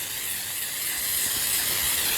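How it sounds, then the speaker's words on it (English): Aerosol can of pre-mixed oil and flour baking spray sprayed onto a cake pan, a loud, close, continuous hiss that holds steady, no talking. "I like to use this spray that has the oil and the flour already pre-mixed"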